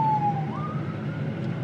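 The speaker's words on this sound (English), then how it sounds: "Ambulance is passing me." An emergency siren wails steadily in the distance as an ambulance passes, its single tone sliding slightly upward and holding over a constant low traffic rumble.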